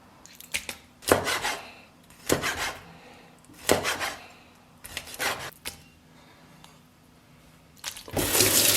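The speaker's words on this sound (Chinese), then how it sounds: "然后咱们洗一下大葱啊" Running tap water splashes as a green onion is rinsed under the faucet at a kitchen sink, coming in several separate bursts with quiet gaps between them, and ending in a louder, steady gush.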